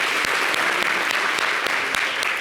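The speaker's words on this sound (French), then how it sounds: "Merci de l'applaudir." A television studio audience gives a singer a short, dense burst of applause, even and loud throughout about two and a half seconds, with a few sharper individual claps standing out.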